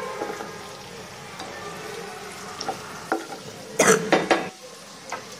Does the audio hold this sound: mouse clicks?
no